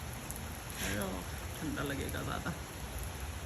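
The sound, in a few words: heavy rain falling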